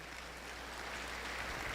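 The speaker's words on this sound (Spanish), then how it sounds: "Denle un aplauso al Señor si usted lo cree." Faint, steady applause from a church congregation, a soft even patter of many hands held at low level for under two seconds with no voices over it.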